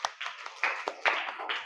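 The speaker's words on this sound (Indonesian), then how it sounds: "Tepuk tangan untuk temennya" A classroom of children clapping for winning classmates, a brief irregular patter of many hands at moderate volume with some louder claps standing out.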